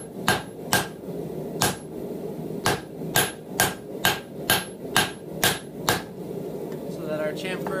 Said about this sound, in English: that's just running the hammer right along the edge, to match that same bevel that the chisel cut